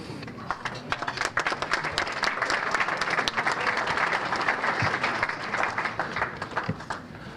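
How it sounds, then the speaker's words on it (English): Guests at a sports hall of fame enshrinement banquet applaud as a priest comes forward, loud, dense clapping from a large room that holds steady for several seconds with sharp individual claps close by. "It's the only place I get applause before I pray."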